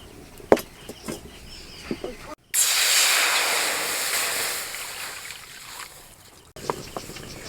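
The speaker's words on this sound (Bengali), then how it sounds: "জল ফুটতে শুরু করে দিয়েছে" Water in a kitchen pot comes to a boil for a tomato and dried red chilli chutney, making a loud, steady hissing rush that lasts several seconds. Faint clinks and taps come before and after it.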